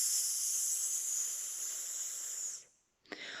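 A child imitates a snake's hiss with a long, steady, fairly loud hissing breath that holds for over two seconds, cuts off, then restarts briefly.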